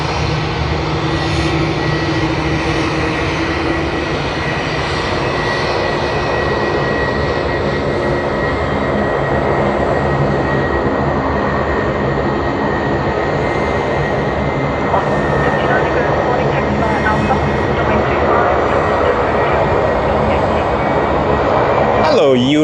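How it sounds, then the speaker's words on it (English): An All Nippon Airways airliner arriving from Japan at Sydney Airport roars steadily on approach, a loud, continuous engine drone that swells slightly toward the end, with a voice talking faintly beneath it. "our favorite aircraft, All Nippon Airways, coming in from Japan"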